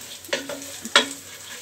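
Soya chunks and fried onions are stirred in a pan, with two distinct scraping strokes over a low, quiet sizzle.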